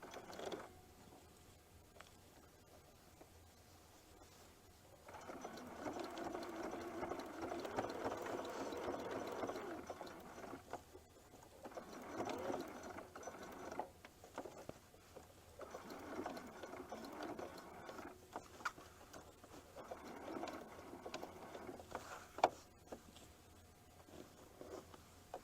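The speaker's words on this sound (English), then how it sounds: "I'm again just going to do a simple straight edge stitch all the way around the pipe." A sewing machine runs a simple straight edge stitch around a fabric pipe on a winter craft project, its steady mechanical whir coming in several sustained bursts with short pauses between, moderately loud and close, with no talk.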